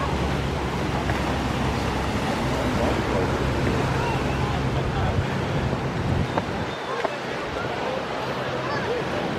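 Steady rushing surf of choppy Atlantic Ocean waves blended with gusty wind buffeting the microphone, continuous and fairly loud throughout.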